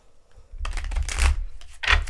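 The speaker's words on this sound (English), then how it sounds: "Let me shuffle both decks here." Two decks of tarot cards are shuffled by hand, giving close, crisp bursts of riffling and flapping card noise separated by short pauses.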